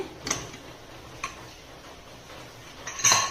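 A pressure cooker lid is opened, producing a few light metallic clicks and clinks spaced across the moment, ending in a brighter scraping metal clatter, all fairly close against a quiet kitchen background with no talking.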